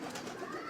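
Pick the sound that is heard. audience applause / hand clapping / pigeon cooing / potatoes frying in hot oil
pigeon cooing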